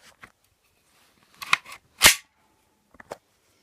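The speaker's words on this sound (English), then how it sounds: "Lovely sound when it dry fires." A WW2 Sten Mk5 submachine gun dry firing and being handled: a few sharp metallic clicks and clacks, one louder snap standing out, separated by quiet gaps, close up with no talking.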